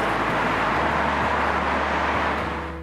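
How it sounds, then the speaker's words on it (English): Steady, loud roar of traffic on a busy Korean highway, heard from a bicycle at the roadside, a dense continuous wash of engine and tyre noise with no voices. "We had to ride on a noisy highway."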